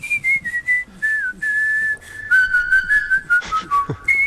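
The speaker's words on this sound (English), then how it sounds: "This is his whistle from earlier." A person whistles a wandering tune up close, clear sustained notes sliding between pitches in short phrases with brief breaths, loud and alone.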